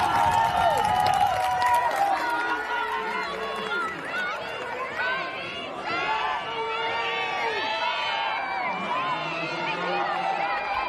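A crowd cheers and shouts at the 2024 USA Ultimate National Championships women's frisbee final, Fury vs. Scandal, a sustained loud roar of voices that swells and holds, with commentators talking over it.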